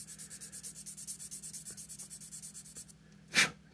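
A fine grit sanding stick smooths a small part for a Roto-Ray build, making steady rhythmic back-and-forth rasping strokes close up for about three seconds, then a brief louder scrape at the end.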